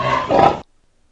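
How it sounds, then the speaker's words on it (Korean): A pig gives a short, harsh squeal, loud and rasping with a grunting edge. It lasts just over half a second and breaks off sharply into silence. "이번엔 돼지 우는 소리입니다"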